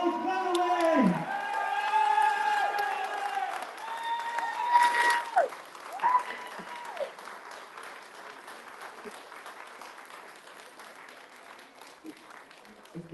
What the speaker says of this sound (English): Let's give him another standing ovation.